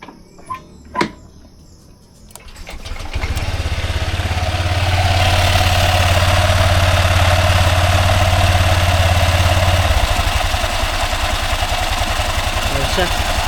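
A Honda Click scooter engine cranks to life after a couple of sharp clicks, then settles into a steady, loud idle that runs close by without talking over it.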